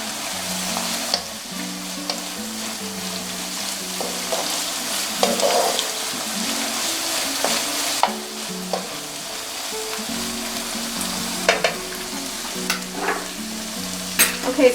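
A teaspoon of minced garlic sizzles steadily in a hot pan for Cajun dirty rice, with the soft scrape and clack of a utensil stirring it throughout; no talking.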